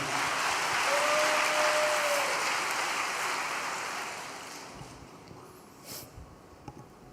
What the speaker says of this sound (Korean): 큰 박수로 단상에 모시겠습니다.